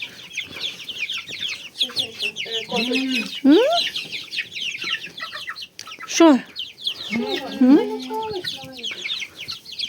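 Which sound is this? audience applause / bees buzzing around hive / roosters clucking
roosters clucking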